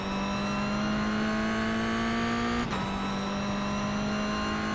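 A Mazda MX-5 race car lapping Oulton Park, heard from inside as a loud, steady engine drone that holds one note, breaks briefly as a gear change at mid-clip, then continues at a similar pitch.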